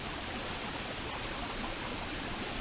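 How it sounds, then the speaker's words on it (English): Hideout Hollow Falls pours into its creek in a steady, dense roar of rushing water that fills the whole space, constant and unbroken with no voices. "So guys, this is Hideout Hollow Falls."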